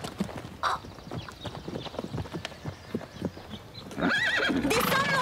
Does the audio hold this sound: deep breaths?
no